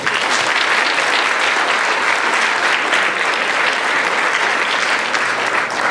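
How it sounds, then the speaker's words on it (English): An audience at an awards medal presentation gives participating students a steady, dense round of applause, loud and sustained throughout with no voices standing out. "we need to give them a round of applause"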